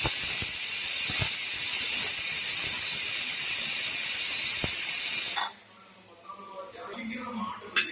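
Steam hisses loudly and steadily from a pressure cooker whistle after the stove is switched off, then cuts out abruptly, leaving quiet room sound with a few faint clinks and some talk.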